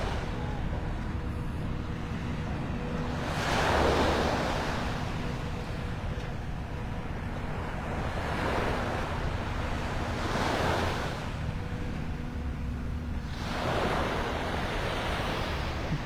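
Calm Gulf waves on Vanderbilt Beach in North Naples, Florida, gently breaking in slow surges every few seconds under steady wind noise on the shoreline.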